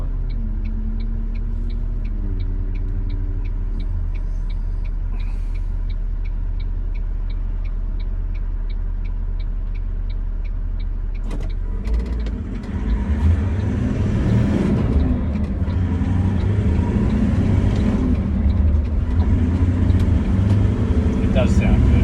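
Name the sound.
Land Cruiser engine through snorkel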